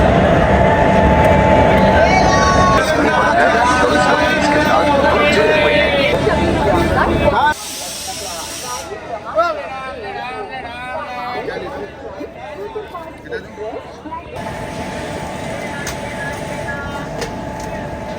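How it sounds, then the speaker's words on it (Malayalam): Crowd hubbub on a busy platform at Balharshah railway station in Maharashtra, with loud, close chatter and rumbling train noise that cuts abruptly between quieter and louder scenes. "ഇതാണ് മഹാരാഷ്ട്രയിലെ ബൽഹാർഷ റെയിൽവേ സ്റ്റേഷനിലെ കാഴ്ചകൾ"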